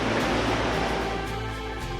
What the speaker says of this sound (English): the cascade is right beside us. We're hearing it and getting glimpses of it all along the way